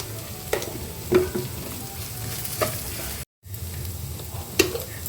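Grated coconut frying in a pan for cluster beans coconut curry, a soft sizzle with occasional sharp scrapes of a spatula and a brief moment of silence partway through.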